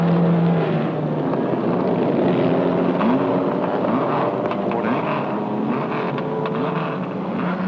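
Formula Junior race cars run on the winding Laguna Seca circuit, a continuous engine drone with shifting pitch sweeps as cars pass, heard alongside wind noise.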